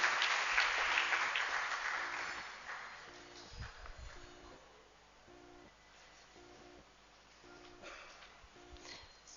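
An audience claps for a woman receiving a Pride of Womanhood award at a ceremony, a burst of applause that is loudest at first and then fades to scattered, quieter clapping, with no speech over it.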